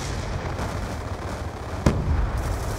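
A grenade explodes in the Call of Duty Black Ops 2 video game: a single sharp blast bursts out partway through over a constant rumble of game noise.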